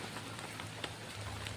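Steady rain falls during a storm in the Philippines, a dense continuous patter of drops on surfaces, fairly close and even throughout, with no talking.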